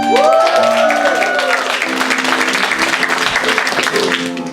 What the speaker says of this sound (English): please raise thy hands and applaud.